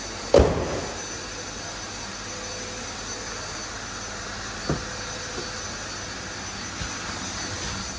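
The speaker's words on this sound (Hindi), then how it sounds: "पेट्रोल टर्बो इंजन है ये।" Steady low drone of a Citroen Basalt's 3-cylinder petrol turbo engine idling, heard from inside the car, a constant hum with a brief thump near the start and a few faint clicks.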